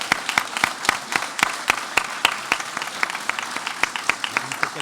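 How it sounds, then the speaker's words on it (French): Clapping fills a municipal council chamber during an installation meeting, a group applauding in a steady run of crisp claps that loosens and thins toward the end, fairly close, with a faint murmur underneath. "Et on applaudit."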